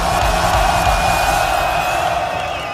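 A live rap concert crowd roars in a dense, continuous wash of cheering that stays loud and steady throughout, with a thin whistle-like tone running above the noise.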